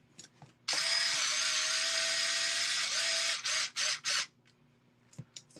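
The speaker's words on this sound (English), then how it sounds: "I'm going to just drive it the rest of the way through with power this time" A power driver threads a suspension link into an Axial SMT10 RC truck, whirring steadily for about three seconds close by, then a few short bursts snug it down, followed by quiet fiddling.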